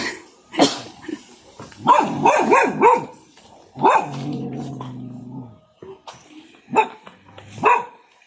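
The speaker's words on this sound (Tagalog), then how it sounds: "May aso nga lang." A dog barks repeatedly in short bursts, with a low growl between them and some whimpering yips, fairly close.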